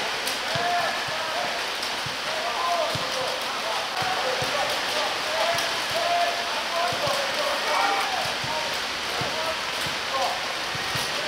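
Heavy, steady rain pours down on a small stadium next to a hotel during a cold outdoor training session of the Ivory Coast national football team, a dense constant hiss of drops with a voice speaking over it.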